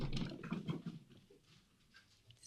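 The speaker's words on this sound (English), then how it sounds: "Two cats are chasing each other." Two cats chase each other around a house, a faint, distant patter of quick, soft thumping footfalls that bursts, eases off and picks up again briefly.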